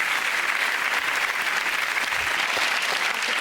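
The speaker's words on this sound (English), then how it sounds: "Give them all a round of applause, ladies and gentlemen." A studio audience at a British comedy panel show applauds loudly and continuously, many hands blending into a bright, sustained roar with a few scattered whoops.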